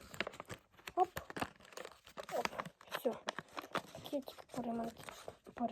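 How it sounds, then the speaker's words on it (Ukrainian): A small plastic packet being torn and crinkled by hand while making paper craft toys, with crisp rustles and crackles in bursts throughout, close and fairly quiet. "Пришлося трошки відірвати пакетик."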